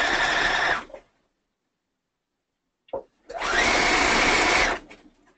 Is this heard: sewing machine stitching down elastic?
yes